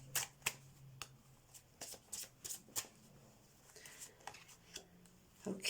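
Tarot cards being shuffled in a series of soft, papery flicks and riffles, close and quiet, with a low voice murmuring faintly underneath.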